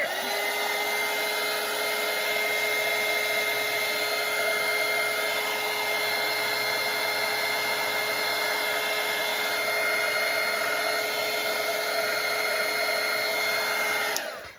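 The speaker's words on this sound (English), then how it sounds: "I have to dry this before I can work on the other part." Hair dryer blowing steadily on watercolour paint, a loud continuous whirring roar with a constant hum that cuts off at the very end.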